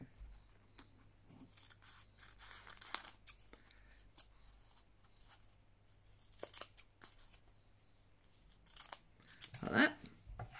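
Scissors trim paper overhang on a handmade CD envelope, giving a few soft, close snips and crisp paper rustles over a quiet background, with one louder cut near the end.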